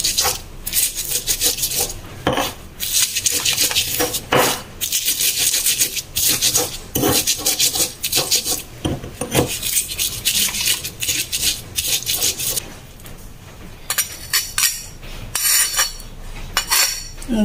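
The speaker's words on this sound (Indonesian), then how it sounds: "Uleknya sesuai selera, mau kasar mau halus sesuai selera ya teman-teman." Spices are ground for a young jackfruit dish in a stone mortar and pestle (ulekan), with loud, close, rhythmic rasping and scraping strokes that continue steadily throughout.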